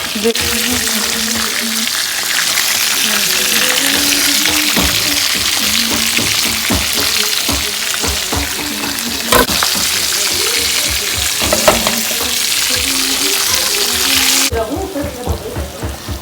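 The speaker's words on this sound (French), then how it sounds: "je vais faire les œufs tournés" Eggs frying in hot, foamy oil give a steady, loud sizzle throughout, with a few utensil clicks and some background chatter near the end.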